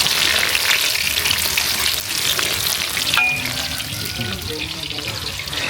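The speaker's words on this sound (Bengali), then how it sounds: "তেল হয়ে গেছে, তেলের মধ্যে দিয়ে দিলাম" Jackfruit chop pieces dropped into hot oil, giving a steady broadband sizzle that stays loud throughout, with faint clinks and a brief tonal squeak midway.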